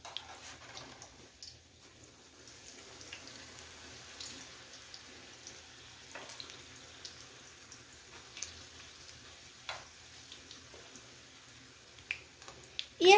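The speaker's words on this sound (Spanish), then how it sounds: "Y así vamos a ir friendo todos los chilitos." Small chili peppers fry in a pan with faint, scattered pops and crackles over a quiet hiss, the sharp snaps growing slightly louder and more frequent toward the end.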